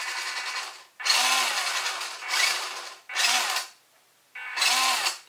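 A WPL D12 Suzuki Carry RC truck's electric motor whines in four short throttle bursts of about a second each, with brief silent gaps between them, loud and close.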